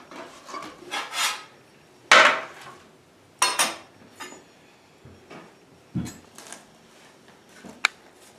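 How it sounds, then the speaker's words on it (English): A metal spatula scrapes and knocks against a pan and board while cutting a hot no-knead flatbread topped with garlic, olive oil and rosemary, giving irregular clinks, taps and scraping strokes spaced apart with quiet between them. "I'm going to put the spatula underneath here to get this cut."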